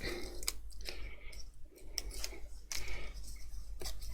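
Die-cut paper pieces from a papercraft kit being torn apart by hand, giving a series of short, crisp tearing and snapping bursts spread irregularly through the clip at close range, with no talking.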